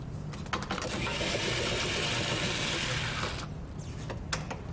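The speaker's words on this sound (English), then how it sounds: "Loosen the 20 screws and bolts." A ratchet loosens screws and bolts on a Buick Roadmaster, a close, continuous whirring click run lasting a few seconds, followed by a couple of sharp taps.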